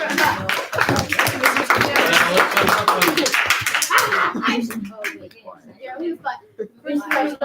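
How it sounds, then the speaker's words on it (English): A round of applause at a Maker Faire gathering: dense, loud clapping from a group for several seconds, mixed with chatter and laughter, then thinning out as voices take over. "let's give a round of applause"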